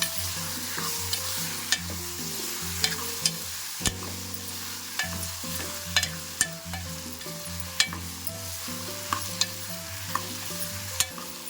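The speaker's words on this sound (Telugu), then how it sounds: "పసుపు మొత్తం ముక్కలకి పట్టే విధంగా ఫ్రై చేసుకోండి" Bottle gourd pieces fry with turmeric in a pan, a steady crackling sizzle punctuated by regular spatula taps and scrapes, over a quiet background tune with no voices.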